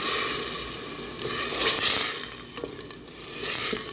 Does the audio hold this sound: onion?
yes